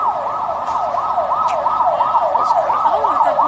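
A police car siren wails close by in a steady, rapid up-and-down sweep, loud and continuous, with faint traffic underneath.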